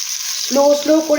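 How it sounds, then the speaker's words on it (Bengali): Kebabs fry in a pan on low heat, giving a soft, steady sizzle that is joined halfway through by a brief tonal sound. "স্লো আঁচ করে ভাজবেন, তাহলে ভাজাটা খুব ভালো হবে"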